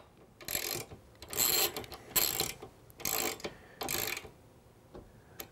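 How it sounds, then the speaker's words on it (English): A T30 Torx driver turns the pivot knuckle screw on a Trektop soft top for a 4-door Bronco. Five bursts of ratcheting clicks come in short, even runs with brief pauses between, close up, with no talking. "then once again using the T30, we're going to go ahead and tighten that up"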